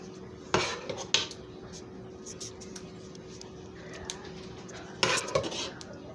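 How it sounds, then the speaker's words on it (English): Pasta sauce going onto baked spaghetti in a kitchen: faint soft scraping and stirring under a low steady hum, punctuated by a few sharp clinks of utensil against dish. "I'm going to go ahead and add the sauce because the sauce to me is like the key component"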